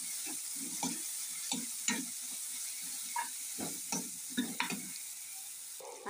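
Tomatoes sizzle quietly in a pan with turmeric for bhindi fry while a spoon stirs them, repeated soft scraping strokes over a steady frying hiss.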